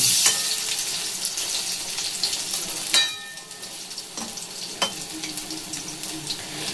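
Cauliflower and cabbage pakoras fry in hot oil in a pan, giving a continuous bright sizzle broken by a few sharp utensil clinks, with no talking.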